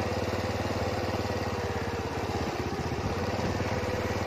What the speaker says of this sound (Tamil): எவ்வளோ பெரிய மழை வந்தாலும் புயல் வந்தாலும் எங்களோட பைக் நிற்காம போகும்.